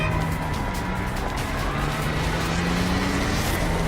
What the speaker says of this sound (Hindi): उसका एक गाड़ी से एक्सीडेंट हो गया